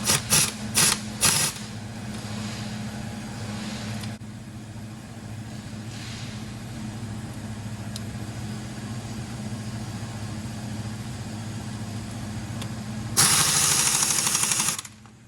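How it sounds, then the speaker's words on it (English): An air impact gun tightens axle nuts on a 1992-1996 Toyota Camry, Lexus ES300 or Avalon front-wheel-drive car: a few sharp rattling bursts up front, then a long steady whirring drone, and a louder hammering burst near the end. "Now I'm just going to tighten these. My gun's really weak."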